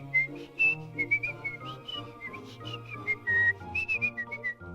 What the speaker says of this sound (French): Siffle joyeux anniversaire